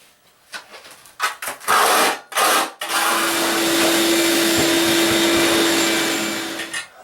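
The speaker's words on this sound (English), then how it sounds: "I've cleaned it off the shop vac" A shop vacuum roars steadily for several seconds after a few scraping and knocking sounds while cleaning a concrete basement shower pan, its motor whine loud and close before cutting off.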